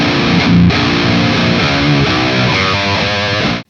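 Electric guitar played through a Soldano-style high-gain amp, a thick, heavily distorted modern high-gain tone ringing loud and continuous for a few seconds before cutting off abruptly.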